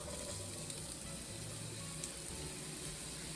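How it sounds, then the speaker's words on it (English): Onions dropped into heated oil sizzle steadily in a pan, a soft continuous frying hiss holding even throughout with no talk over it. "Okay, our oil is heated up. We're going to go ahead and put our onions in here."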